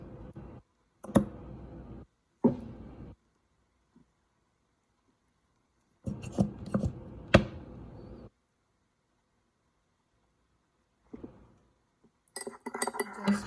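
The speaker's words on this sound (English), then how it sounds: "Just mix them very well." Mayonnaise, tomato sauce and sweet chili sauce are stirred together in a glass bowl, bursts of clinking and scraping from the spoon separated by silent pauses.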